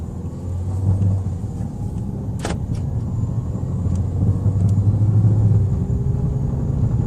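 A 2013 Dodge Dart drives along the road, heard from inside as a loud, steady low rumble of engine and tires, with a brief click partway through and no talking.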